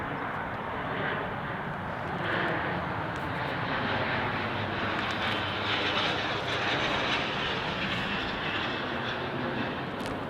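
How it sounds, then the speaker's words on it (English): A fixed-wing airplane passes overhead near a small urban neighborhood, producing a steady, broad engine roar that holds at a moderate level for about ten seconds with no talking. "It's interesting how some planes are much quieter than others."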